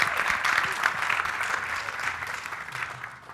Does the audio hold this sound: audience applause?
yes